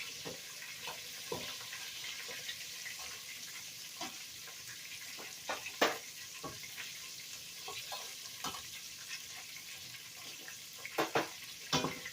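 Steady crackling sizzle of potato wedges frying in oil, with scattered pops and clinks of stirring, fairly quiet and continuous throughout.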